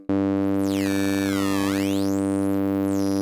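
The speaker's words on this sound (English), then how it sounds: "this is sample rate reduction and bit crushing" A harsh, buzzy synth tone from the u-he Hive synthesizer with stacked steady harmonics, processed with sample rate reduction and bit crushing, while a bright, gritty digital sweep dives down and climbs back up, loud and alone.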